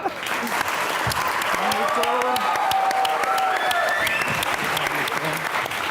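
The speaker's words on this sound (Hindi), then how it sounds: "आपकी भरपूर तालियों में" Enthusiastic studio audience applause welcomes a guest on a comedy talk show, continuous dense clapping with cheering voices and music riding over it.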